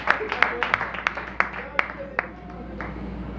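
Light applause from an audience at a live Haitian stage show, a few sparse claps at an uneven pace beneath a voice speaking over them.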